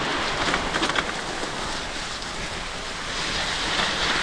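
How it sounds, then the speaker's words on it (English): Waves on the North Sea coast surge and wash up the beach in a steady, close hiss with a swelling roar, mixed with wind buffeting the microphone. "I wasn't expecting to get quite this close to the sea on this ride."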